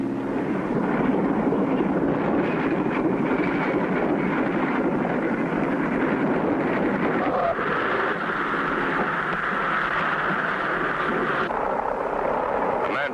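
A cartoon small plane comes in to land over a snowy Alaskan village, its engine a steady, loud droning hum with slight shifts in pitch throughout and no talking.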